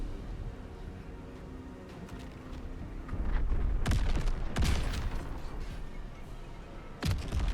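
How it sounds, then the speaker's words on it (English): Explosions from a nautiloid airstrike in Baldur's Gate III, several sharp booming blasts around the middle and one more near the end over a low rumbling game background. "Nautiloid airstrike."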